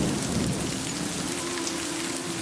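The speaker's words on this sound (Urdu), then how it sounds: "بادلوں کے ہولناک انداز سے کڑکنے کی آواز." Heavy downpour drumming steadily and loudly, with a deep rolling rumble of thunder running underneath the dense hiss of rain throughout.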